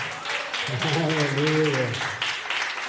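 Congregation applauding during a prophetic night church service, broadband clapping throughout with a voice shouting or singing over it in the middle.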